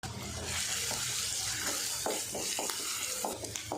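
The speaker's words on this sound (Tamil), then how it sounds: "என்ன சொன்னாலுமே ரெண்டு பெரிய வெங்காயத்தை பொடியாக கட் பண்ணி வச்சுருக்கேன் அதை சேர்த்துட்டு வெங்காயத்தை வதக்கிட்டுருவோம்" Two large finely chopped onions sautéing in a pan for bitter gourd gravy, a dense continuous sizzle with scraping stir strokes, close and steady, no voices.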